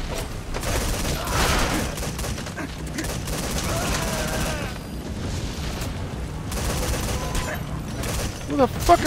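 Gunfire in Metal Gear Solid V rattles in continuous, busy volleys mixed with booming impacts, a chaotic mid-distance firefight that keeps going while someone talks over it.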